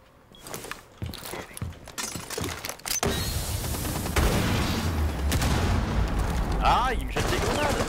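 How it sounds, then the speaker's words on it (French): Grenade explosions in the video game Rainbow Six Siege: a few sharp scattered bangs give way to a loud, sustained roar of blasts and rumbling debris, while a player talks now and then. "Ah, il me jette des grenades."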